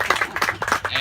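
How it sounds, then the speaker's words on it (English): Audience at a ceremony clapping, a brief burst of dense, crisp hand claps at moderate level. "we'll give him a round of applause in his absence, Anton."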